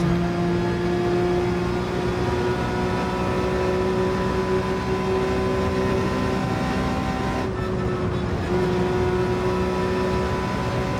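A GT3 race car engine in the Gran Turismo 7 racing game holds a steady whining tone with a brief dip partway through, under continuous game audio.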